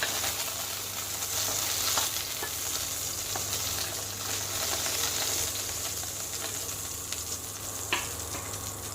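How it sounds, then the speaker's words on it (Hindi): Pointed gourd (parwal) fries in oil in a pan, giving a steady, close sizzle with occasional crackles and stirring scrapes over nine seconds. "देखिए परवल हमारे अच्छी तरह से भून गए हैं।"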